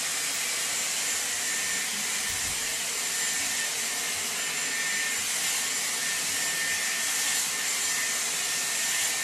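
Dyson Airwrap with a round brush attachment blow-drying towel-dried hair, a steady close airy whoosh with hiss that runs unbroken and evenly loud throughout, with no voices over it.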